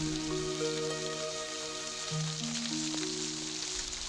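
Steady rain falling outdoors at night, a constant hissing wash with a tonal musical drone layered over it.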